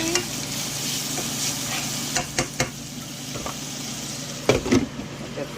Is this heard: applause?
no